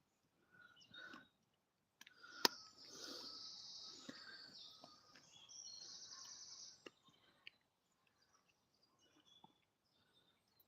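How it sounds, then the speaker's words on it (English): Scattered forest birdsong in a quiet outdoor setting, with sharp tweets and brief trills coming and going, some bursts closer, others faint. "But listen to those birds, aren't they wonderful?"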